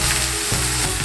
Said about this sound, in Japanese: 中火で落ち着いてゆっくり炒めるということ